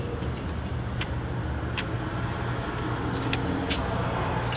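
A Jeep J10 pickup that has sat unused for years has its engine spun over, giving a steady, dense mechanical drone with a low rumble throughout and no clear catch or start.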